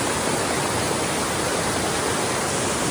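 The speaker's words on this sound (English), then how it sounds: "Waterfalls coming from our side, and the mist coming in from the falls are so energizing and powerful." Mossbrae Falls on Mt Shasta, a waterfall roaring in a steady, dense, full-band rush of falling water, loud and unbroken throughout, with no voices.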